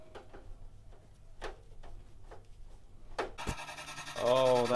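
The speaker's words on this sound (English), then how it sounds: "Finally, fastening it to the machine." Power supply unit being fastened into a PC case: a series of sharp, sparse clicks and screw-tightening ticks at close range, ending in a loud burst of rattling fan noise with a rising whine.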